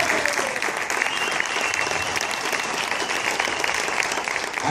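An audience breaks into sustained, dense applause that stays loud and even throughout, with no speech over it.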